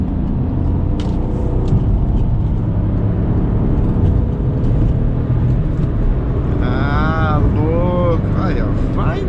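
A Peugeot 208 with the small 1.2 Puretech engine drives through a curve, its steady engine hum and road noise filling the cabin, while someone talks near the end.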